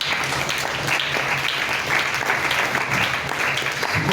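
A worship congregation at a Thursday church service claps and cheers for the Lord, a dense, sustained wash of applause from many hands that stays loud and even throughout.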